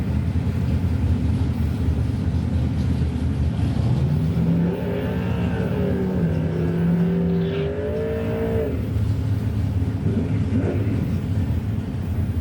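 A 1969 Pontiac Grand Prix and a 1971 Camaro launch down a drag strip, their engines roaring loudly and steadily, with rising revs and gear changes as the cars pull away.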